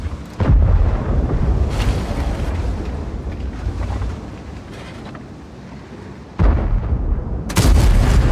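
Cannon fire from a Kampfpanzer 07 PE tank in the World of Tanks video game comes as loud, sharp booms with long rumbling tails, several shots spaced a few seconds apart and heard close.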